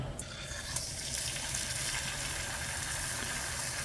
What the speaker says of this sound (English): Okay, our pan is hot, and I've added some oil, and now we'll go ahead and sear.